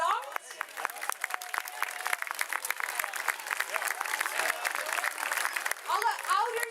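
Applause from the audience after a children's Lion King musical: dense, steady clapping fills the room for several seconds, with an announcer's voice speaking over the clapping.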